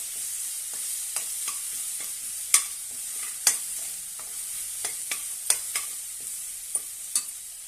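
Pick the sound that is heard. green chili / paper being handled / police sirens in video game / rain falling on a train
green chili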